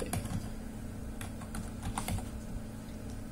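Fingers tap out a password on a computer keyboard in a quick, uneven run of soft clicks, close by and with no talking.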